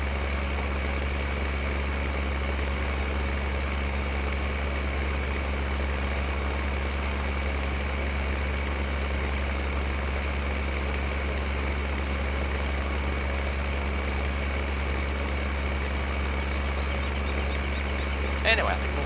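Steady low engine drone of a tractor idling in the Farming Simulator 15 video game, constant and unchanging with a continuous low rumble, alone with no talk.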